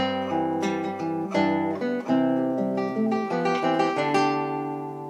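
Acoustic guitar plays a passage of Beethoven's Für Elise, a run of plucked, ringing notes and chords, steady and close, with no voices.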